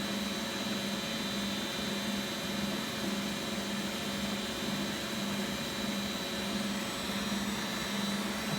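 A Beko WX842430W washing machine runs its spin and drain cycle, a constant whirring drone with a steady low hum, faint and unchanging throughout, with no talking.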